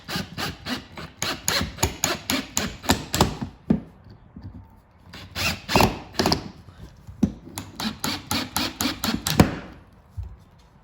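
A drill drives screws into pocket holes in wooden boards joined with a Kreg K5 pocket-hole jig. Three bouts of rapid, rhythmic clicking and rattling are heard close by, separated by brief pauses.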